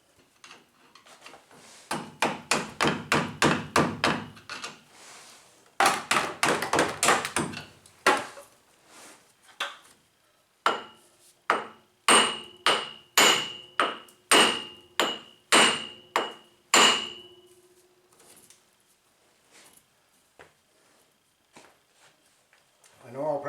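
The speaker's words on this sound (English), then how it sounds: "I know I'll probably get a lot of comments that I shouldn't be hammering on this" Heavy hammer blows strike metal in quick bursts of repeated impacts with short pauses between them. Some strikes leave a brief metallic ring, close and loud.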